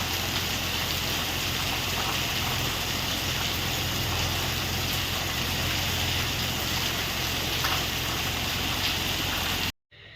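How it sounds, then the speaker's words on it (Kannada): Steady rain falling near a paddy field, a dense unbroken hiss with a low rumble underneath, constant and moderately loud throughout, cutting off abruptly just before the end. "ಒಳ್ಳೆ ಮಳೆ ಬಂತು ಪುಣ್ಯಕ್ಕೆ."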